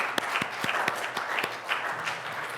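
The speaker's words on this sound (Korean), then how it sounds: "하나님께 감사의 박수를 한번 드립시다" A church congregation at a Friday worship service claps together, a moderately quiet burst of scattered applause with sharp individual claps running the whole time.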